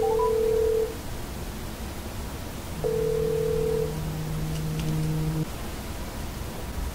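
Two steady electronic ringback tones as an LG G7 ThinQ smartphone places a call, each lasting a couple of seconds with a pause between, over faint background hiss.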